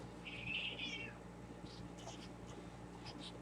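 A vocal house cat gives one clear, drawn-out meow near the start, followed by fainter scratching and rustling sounds.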